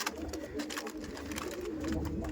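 Punjabi pigeons coo softly and repeatedly inside a pigeon loft, their low rolling calls steady and fairly close, with faint background rustling and no talk.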